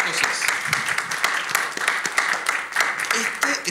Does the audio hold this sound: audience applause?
yes